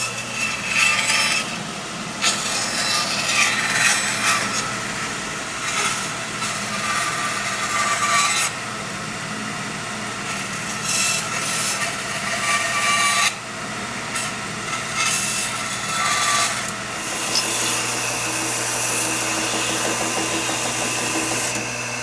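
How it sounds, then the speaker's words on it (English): Power wood router shaping the edge of a wooden table leaf for a dinette in a bus conversion, a steady whining grind that runs continuously at close range with small shifts in pitch and intensity. "She's routing part of the table for our dinette."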